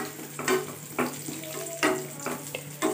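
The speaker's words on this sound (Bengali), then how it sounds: "দুধটা দিয়ে ভালো করে এটাকে আমি নেড়ে চেড়ে নেব।" Milk being stirred into a fried grated carrot mixture in a pan: a low simmering sizzle under repeated close spatula scrapes, roughly one every half second.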